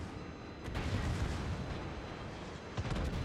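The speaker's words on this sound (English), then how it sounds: "So my guns are loaded, line up a shot, take another shot at him." Heavy naval guns of the battleship Montana boom in World of Warships, a dense, rumbling barrage of blasts with sharper reports near the start and end.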